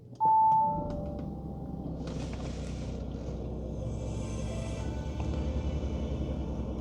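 Audi A6 50TDI from 2018 chiming its welcome tone at start-up, a clear bright ding followed by the steady low idle rumble of the diesel engine with faint cabin hiss.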